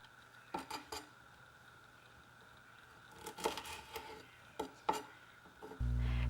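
Knife slicing kumquats lengthwise on a cutting board, a few sparse, faint cuts and taps against the board, quiet and close, with no talking.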